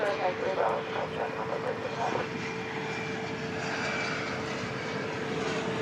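An airliner arriving from Honolulu taxis at DFW Airport with a steady engine whine and hum, and a voice talks over it early on.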